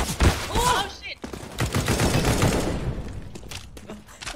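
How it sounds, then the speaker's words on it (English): Rapid bursts of gunfire in an online shooter video game ring out loud and close, with a few sharp shots toward the end and a voice briefly exclaiming under the noise. "Oh, I'm shooting over your shoulder."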